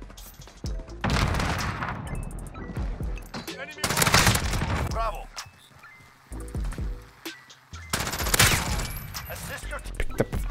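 Bursts of P90 submachine gun fire in Call of Duty: Modern Warfare, rapid automatic volleys in several loud stretches with gaps between, mixed with game effects and a player talking over the action.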